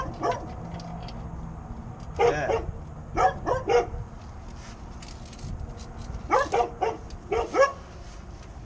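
A dog barks in short bursts of two or three woofs, fairly close, with quiet pauses between and a brief spoken word near the start.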